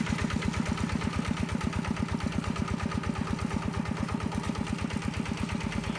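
A small single-cylinder Yanmar 11.5 hp walking tractor engine idles close by, chugging in a fast, even rhythm without pause.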